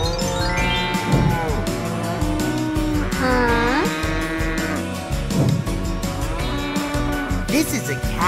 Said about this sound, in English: This is a cow. She gives milk.